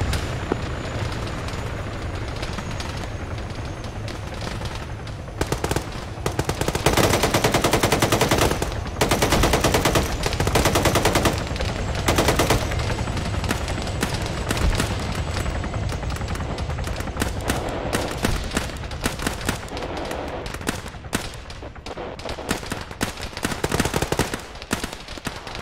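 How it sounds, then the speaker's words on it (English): Sustained automatic gunfire in the military game Arma, a dense, loud roar of rapid machine-gun bursts and shots running almost continuously, with brief gaps between volleys. "Jay Bowles, I'm shooting over your head"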